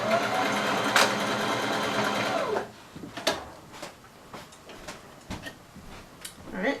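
A sewing machine stitching a fabric waistband runs in a close, steady mechanical whir for a few seconds, then stops for a backstitch, followed by scattered clicks, taps and handling knocks.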